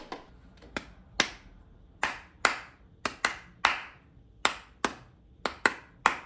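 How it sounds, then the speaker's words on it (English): A single pair of hands claps out a rhythm of about a dozen sharp, close claps in an uneven pattern, each one crisp and dry against an otherwise quiet room, practising the beat of a piece before sight-reading it. "try to clap the rhythm first."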